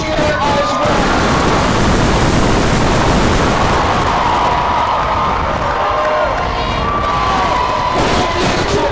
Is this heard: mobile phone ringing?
no